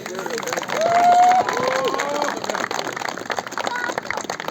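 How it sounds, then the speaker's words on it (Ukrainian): Crowd applause at an awards ceremony for district championship winners, honouring the Kamianobrid team: a loose, sustained clatter of many hands mixed with a murmuring crowd and a brief tonal sound near the start. "Оплески для команди Кам'янобрід."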